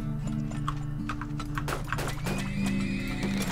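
Horses neigh and hooves clip-clop in the video game Turmoil, a short whinny rising over steady trotting hoofbeats and a droning game music bed, fairly loud and continuous with no talk.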